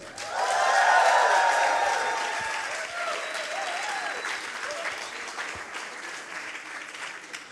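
An audience at a science slam evening claps warmly, the applause swelling quickly and then tapering into a steady, fading patter over several seconds.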